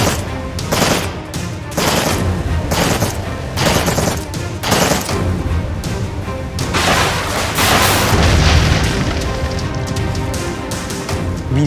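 Rapid bursts of gunfire and heavy booming explosions echo during street fighting in Hadrut. Shots come in loud, dense volleys with short gaps, then merge into a sustained rumbling barrage.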